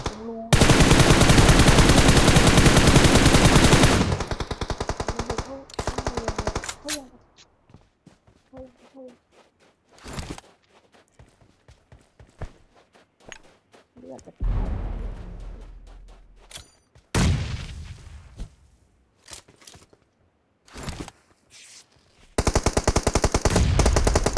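Gunfire in the mobile game PUBG Mobile comes as loud bursts of automatic fire and single shots separated by quieter gaps with footsteps, and a voice talks at times.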